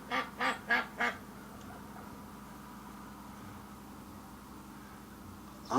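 Muscovy ducks and a goose on a farm give four loud, evenly spaced quacking honks in quick succession near the start, then low background noise until another call rises at the very end.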